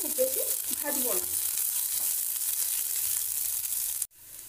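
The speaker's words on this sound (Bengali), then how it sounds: "পেঁয়াজ কুচিগুলো দেওয়ার পর এগুলো আমরা হালকা করে ভেজে নেব" Chopped onions lightly frying in a pan for chicken stew, giving a steady close hiss and sizzle with faint stirring; a brief voice is heard early on, and the sound cuts off abruptly near the end.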